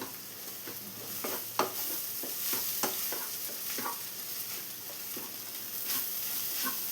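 Beaten egg seasoned with chilli powder and salt fries with drumstick leaves in a pan, giving a steady soft sizzle broken by repeated stirring scrapes, close and fairly quiet, with no speech.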